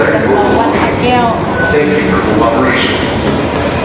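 Underground MRT metro train running through a subway tunnel in Bangkok, a steady loud rumble and rush filling the whole stretch, with people talking over it.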